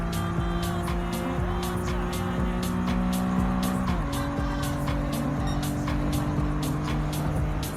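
A Nissan Skyline 2000 GT-R in Gran Turismo 7 drifting through a corner, its engine droning steadily while tires squeal continuously and loudly, with the engine pitch dropping midway as the slide goes on.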